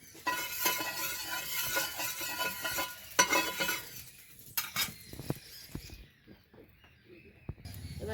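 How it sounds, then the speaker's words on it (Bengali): Spoonful of white oil going into a hot pan while making bread in boiling water, heard as broad sizzling hiss with spoon and pan clinks, dying down after about five seconds into quieter scattered clatter. "তাটা গরম হয়ে গেছে আমি এক চামচের মতন সাদা তেল দেবো"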